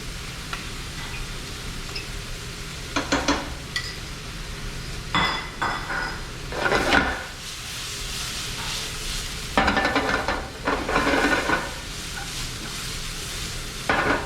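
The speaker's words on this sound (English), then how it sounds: "Let me go ahead and add my garlic to that as well." Garlic goes into a hot pan of oil for a scallop salsa verde dish, giving steady sizzling with stirring scrapes and light clinks of utensil against pan, rising in short bursts throughout.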